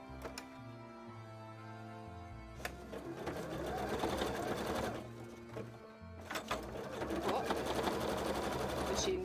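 A sewing machine runs in two long close bursts of rapid rhythmic stitching while patterns are sewn, dropping to quieter pauses and short clicks between runs.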